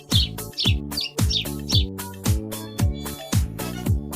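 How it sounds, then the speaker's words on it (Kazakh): A sparrow gives quick, bright chirps in short clusters during the first half, over a rhythmic, looping backing tune. "Торғай."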